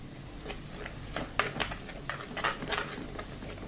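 Ground mustard seed, fenugreek and asafoetida stirred into a hot pan of lemon pickle, with close scraping strokes and a light sizzle coming in uneven bursts.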